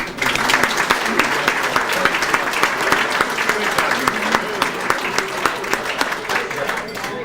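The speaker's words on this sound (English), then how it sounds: "So why don't y'all clap and say great job to all of you, okay?" An audience at an antique car show in St. Ignace, Michigan applauds the vehicle owners, with loud continuous clapping from a crowd and a few sharper nearby claps standing out.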